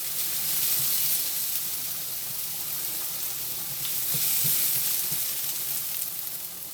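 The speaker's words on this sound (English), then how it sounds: "Now I'm going to caramelize these onions now real good." Onions caramelizing in oil in a pot, giving a steady, loud, close sizzle and hiss with a few faint stirring taps, no voices.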